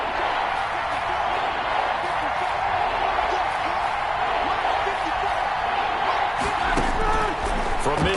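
Simulated stadium crowd in a football video game cheering before a big third down, a sustained, even roar throughout with a few sharper bursts and thumps near the end.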